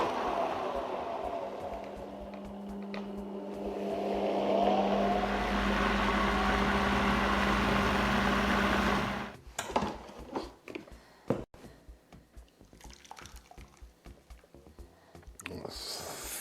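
A blender purees thick cauliflower soup with fried onion and bacon, a steady loud whirring drone lasting about nine seconds, then cutting off into quieter kitchen clatter and talk.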